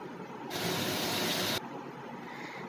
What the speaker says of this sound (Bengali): তো চলো, মাছগুলো এখানে ভেজে নিচ্ছি